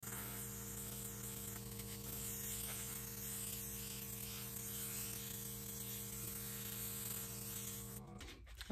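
Airbrush spraying thinned model paint, a steady faint hiss with a constant compressor-like hum underneath, cutting off near the end.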